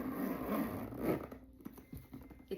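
Zipper on a Louis Vuitton Alma PM handbag being drawn open, a close, quiet rasping slide that fades into soft scattered rustles and faint handling clicks.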